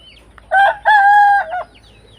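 A rooster crows loudly and close by, a short broken call followed by a long drawn-out note, with no other sounds around it.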